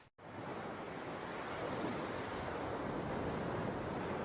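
Steady rushing wind over the Sea of Galilee sweeps in after a split second of silence and holds as a broad, even roar, dense and full with no gusts or pauses, no voices heard.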